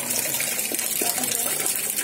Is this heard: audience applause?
no